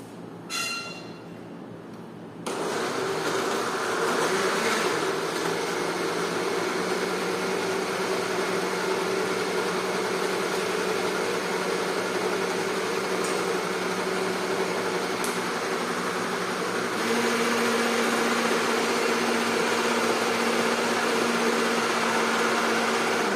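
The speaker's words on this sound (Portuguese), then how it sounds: "utilizando o liquidificador é mais rápido" Blender chopping two red cabbage leaves: after a quiet moment, the motor kicks in with a steady, loud whirring hum that shifts to a slightly different pitch later on and runs continuously.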